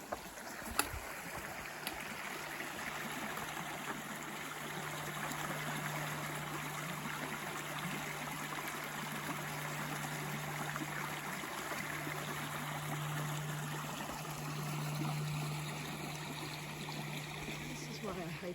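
Steady broadband rush of a stream flowing beside a waterfall hiking loop trail in Connecticut, continuous and fairly close, with a low constant hum beneath and no talk.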